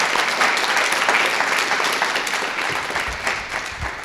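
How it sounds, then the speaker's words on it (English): Audience applause at a programming-languages conference industry session, a loud, dense burst of clapping that fades slowly over about four seconds. "Okay, let's do another round of applause."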